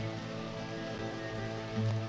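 Rain falling in the video game Deadly Premonition, a soft steady patter under a low humming background drone, faint and continuous with no talk over it.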